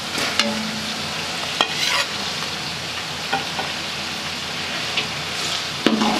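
Chicken and carrots frying in a pan, a constant close sizzle broken by several sharp scrapes and clanks of a utensil stirring against the metal.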